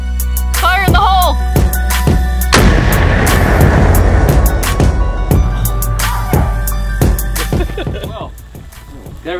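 A single loud gun blast kicks up dirt outdoors, a sharp crack followed by a rumbling decay, with voices talking around it.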